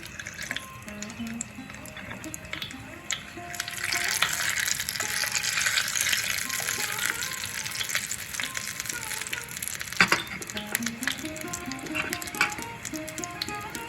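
Whole spices and chili hit hot oil as a tempering for moong dal with bottle gourd, a crackling sizzle that swells after a few seconds, with clinks and watery spitting mixed in.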